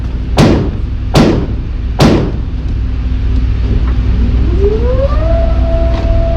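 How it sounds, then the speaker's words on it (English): Three loud, sharp reports from a Ruger SR45 .45 pistol fire in quick succession outdoors, each decaying quickly, followed by a faint rising tonal whine in the background. "I'll fire another 4 rounds through this Ruger SR45."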